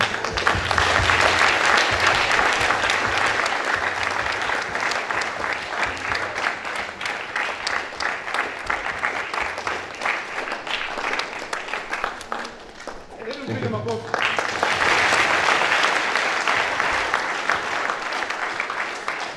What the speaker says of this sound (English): Let's be clapping as they leave.